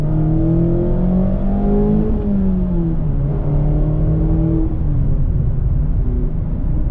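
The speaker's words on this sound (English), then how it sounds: "Let's try a 40-mile-an-hour second gear downshift." A 2022 Mazda Miata RF with a manual gearbox drops into second gear at 40 mph, its engine note rising sharply with the downshift, then holding and easing as a steady drone under constant cabin road noise.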